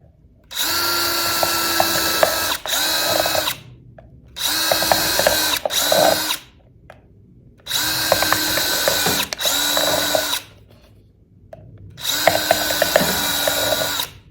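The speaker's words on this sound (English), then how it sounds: "I take my screwdriver and press down, and it usually just goes through all of them and they start lifting up" A power screwdriver drives through a stack of plastic plant cups to make drainage holes, whirring loudly in four separate bursts of a few seconds each with short quiet gaps between them.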